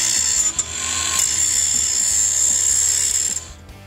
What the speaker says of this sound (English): Now I'll take my grinder.